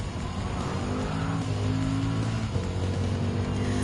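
A 2007 BMW M3 Sport Evolution in Gran Turismo 7 holds a steady engine drone that climbs as the throttle opens, its harmonics rising after a brief dip midway, loud and close with no talk over it.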